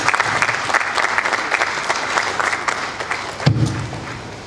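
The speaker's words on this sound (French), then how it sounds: "Sous vos applaudissements, s'il vous plaît." Sustained audience applause at a book launch for Professor Modeste Bahati's work on insurance and banking fundamentals, dense steady clapping filling the room throughout, with a brief low thump partway through.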